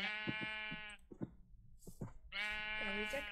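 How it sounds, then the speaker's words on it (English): Sheep bleating in a modded Minecraft-style video game: two long, loud wavering bleats with a brief stretch of quieter game noise and faint voice-like sounds between them. "you can stare at a sheep"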